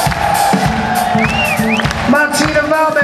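A concert crowd at a show cheers and whoops loudly after the band's guitarist is introduced, with band music and sustained tones ringing underneath.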